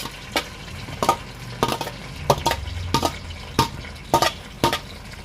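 Onions and curry leaves fry in hot oil for chicken kulambu, with a soft background sizzle broken by a series of sharp, irregular pops and taps about once a second, close by.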